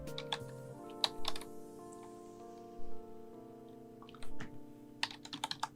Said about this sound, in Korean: 원본에서 컨트롤 J를 눌러서 복사합니다